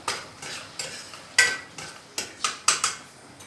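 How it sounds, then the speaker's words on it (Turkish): Zucchini dish (village-style) being stirred in a pot, producing a series of spoon scrapes and clinks against the metal roughly every half second, close and clear with a faint sizzle beneath. "Kabağımızı karıştıralım"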